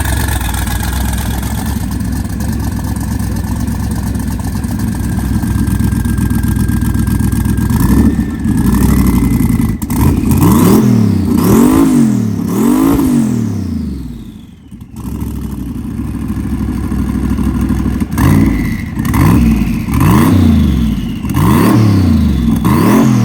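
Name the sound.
twin-turbo LS 4WD Suzuki Swift engine revving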